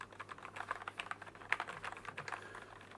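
Plastic keys of a RedThunder K84 wireless keyboard typed in a rapid, uneven run of light clicks and clatter, close and fairly quiet, with no voices.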